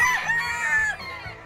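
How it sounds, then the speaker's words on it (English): White leghorn chickens, a prize-winning egg-laying breed, give a short burst of close, fairly loud clucking with a drawn-out crow-like call, with no talking. "These are some very nice white leghorn chickens."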